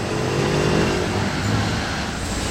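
A sports car, the David Brown GT, drives past in a Ferrari convoy on a Monaco street, its engine a steady, fairly close roar over continuous traffic noise with no clear fade.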